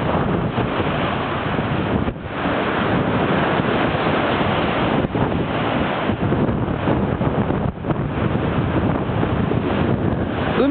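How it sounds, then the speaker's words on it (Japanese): Strong ocean swell breaks at the shore of a dive site, a dense continuous roar of surf heavily buffeted by wind noise on the microphone, loud and steady throughout with no talk. "今日は少し、うねりという波がですね強いんで"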